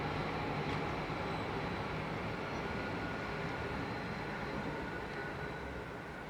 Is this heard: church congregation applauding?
no